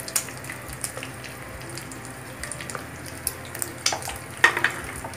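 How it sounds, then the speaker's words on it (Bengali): Bay leaves and whole garam masala spices sizzle and crackle steadily in hot oil in a pan, with faint stirring clinks and scrapes throughout, close up and without talk. "এবার আমি এর মধ্যে তেজপাতা আর গোটা গরম মশলাগুলো সব ফোড়ন দিয়ে দিচ্ছি।"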